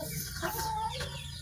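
Chickens cluck softly and continuously at close range over a steady low background hum, with a few higher-pitched clucks standing out.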